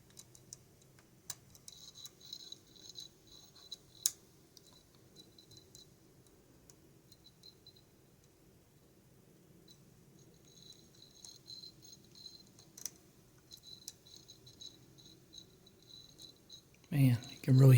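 Lock pin springs clicking faintly while a lock is picked, with sparse small ticks and taps over a quiet background and a louder handling noise at the end.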